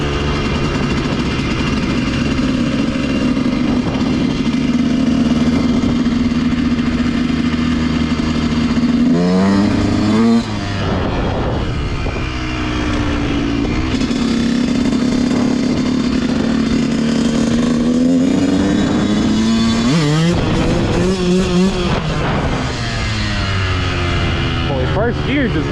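Dirt bike engine revving hard and pulling in first gear, loud and close, with repeated throttle surges rising and falling in pitch and a steady idle-like drone between them.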